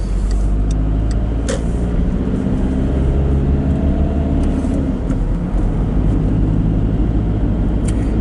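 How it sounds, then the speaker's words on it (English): Road traffic moves through a roundabout in a steady, continuous rumble of car engines and tyres, with no voices. "Let's pay attention to the traffic at the rond-point."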